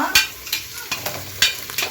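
Onions sizzle and crackle in a hot pan with biryani spices for mushroom biryani, with a few sharp scraping stirs of a spoon breaking through the steady frying hiss.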